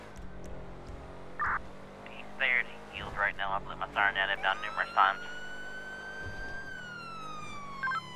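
A police car siren wails in a roleplay video game, a steady high tone gliding slowly downward, with harmonics stacked above it. A voice radio-chatters over it in short bursts.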